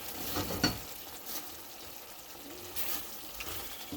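Onion masala with grated coconut frying and being stirred in a pan for shrimp coconut masala, a soft steady sizzle with scraping stir strokes, quiet and close, with no talking.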